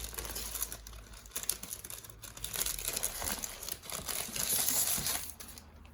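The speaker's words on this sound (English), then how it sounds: "it's come in a plastic wrap, and so we're gonna open it now" A MacBook Pro 13-inch being unwrapped from its plastic wrap, continuous close crinkling and rustling of plastic with a few sharper tearing crackles, steady and without talk.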